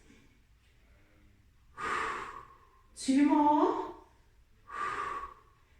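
Three slow, deep breaths during a Pilates child's pose, each a close, audible inhale or exhale with short pauses between, and a few words spoken by an instructor.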